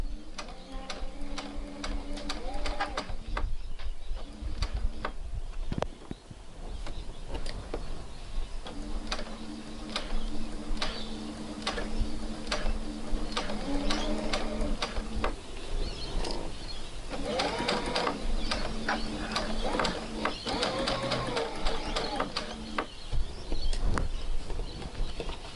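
Sewing machine stitching a curve in fabric, a steady run of fast ticking needle strokes in several bursts separated by short stops, close and clear with no talk.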